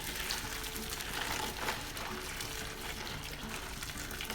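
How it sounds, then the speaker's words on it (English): Boiling water pours steadily into a bowl of washed snails in a continuous splashing stream, fairly faint and close, with no talking. "I'm going to pour in the boiling water into the washed snails"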